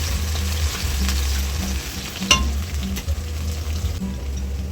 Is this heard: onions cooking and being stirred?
yes